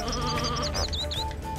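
Cartoon sheep bleating in the Looney Tunes: Sheep Raider video game, several short wavering bleats over a steady bed of game music and ambience.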